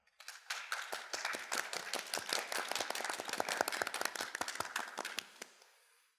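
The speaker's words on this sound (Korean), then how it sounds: "큰 박수로 환영해 주시기 바랍니다." Audience applause at a KAIST undergraduate matriculation ceremony welcomes the university president, crisp individual claps rising quickly, holding steady for several seconds, then fading out, with no voices over it.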